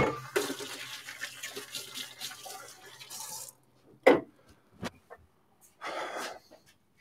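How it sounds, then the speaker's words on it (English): Hands being washed under running water at a kitchen sink. A steady splashing stream runs for about three seconds, then stops, leaving a few faint knocks and short rustles. "let me wash my hands."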